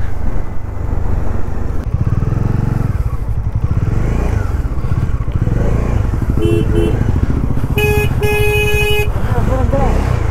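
A Bajaj Dominar 400 motorcycle rides on the mountain road from Sarchu toward Ladakh beside a truck, with constant loud engine and wind roar and several short horn toots near the end, under a rider's talk.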